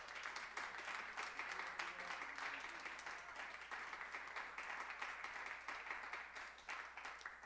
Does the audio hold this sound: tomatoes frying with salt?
no